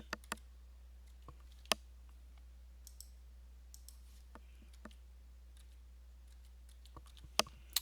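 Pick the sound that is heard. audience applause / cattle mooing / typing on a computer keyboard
typing on a computer keyboard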